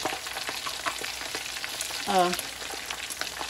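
Chicken skin chicharrón, including a rolled-up piece of leg, frying in a pan with a steady close sizzle and crackle, plus a short high squeak midway.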